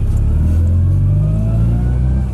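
Air-cooled two-cylinder engine of a Polski Fiat 126p revving up, a loud, close, rising mechanical drone sustained for a couple of seconds before easing slightly at the end.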